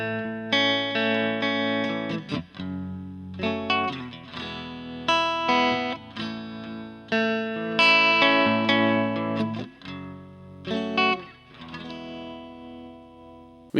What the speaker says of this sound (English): I personally really like the sound of the neck pickup on these really washy